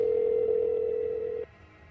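A steady, continuous telephone tone holds for over a second after a call drops, then stops abruptly, leaving faint background hum.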